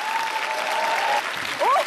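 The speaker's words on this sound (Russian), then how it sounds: "Кто громче всех аплодирует?" Applause from a studio audience at a New Year holiday show, a steady, dense wash of clapping that continues under a sustained tone, with a voice calling out briefly near the end.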